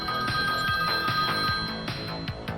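A telephone bell rings in repeated bursts in a radio-drama pizza advert, loud and close with a steady ringing pattern and no talk over it.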